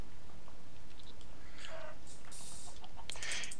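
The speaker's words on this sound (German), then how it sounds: "Ein Huhn." A chicken in the game Minecraft clucks in short bursts, with a few brief squawks and clucks over a noisy steady background.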